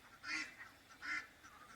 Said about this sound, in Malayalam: കരയുകയാണ് താറാവുകൾ